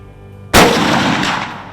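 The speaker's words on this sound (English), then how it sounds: "Now I'm gonna go all the way out to a tiny 3-inch plate at 181 yards, and I've got to shoot through a tiny little gap." A single loud rifle shot aimed at a 3-inch steel plate 181 yards away, a sharp crack at about half a second followed by a long rolling echo that slowly fades.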